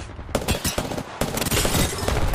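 Prowler burst SMG fire in a battle royale shooter video game, a dense loud burst of rapid gunshots with a brief gap, then sustained fire to the end, no talking.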